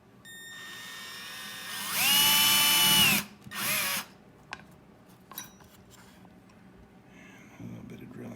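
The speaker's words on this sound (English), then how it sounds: "give a little bit of a twist, and then I'll just set up with a little bit of drilling here." A power drill whines up to a high steady pitch in two close bursts, the first longer, while setting up on a Revel electric skateboard kit, followed by a few sharp clicks and handling knocks.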